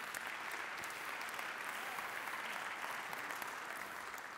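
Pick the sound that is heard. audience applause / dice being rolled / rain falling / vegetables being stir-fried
audience applause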